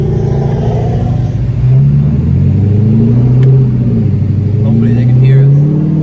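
A turbocharged Ford Mustang engine rumbles loudly from inside the car during a ride-along, its pitch climbing as it accelerates, with voices talking over the steady engine drone.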